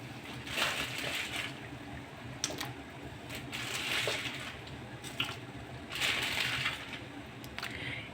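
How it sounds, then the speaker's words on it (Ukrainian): About 400 grams of chicken goes into boiling salted water for solyanka soup, giving a steady bubbling hiss with a few soft plops and splashes and no voices. "киплячу воду додаю 400 грамів курятини"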